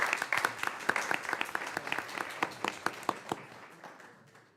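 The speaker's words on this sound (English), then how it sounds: "go ahead and give them a round of applause" A round of applause from an audience at a committee meeting, with quick, dense clapping near and clear that thins out and trails away to quiet.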